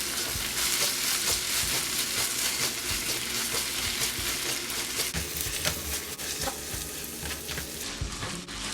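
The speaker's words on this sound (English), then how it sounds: "Add 1 tablespoon ginger garlic paste. Sauté until rawness goes away." Ginger garlic paste sautés in a hot pan with a steady, loud sizzle and crackle throughout, broken by scraping stirs, with no voices.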